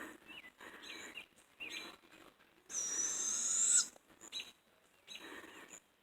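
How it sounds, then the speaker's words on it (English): An owl calls repeatedly at moderate distance, a series of soft hoots with short pauses, over a quiet outdoor night background with a brief hiss midway. "There is one of the resident owls."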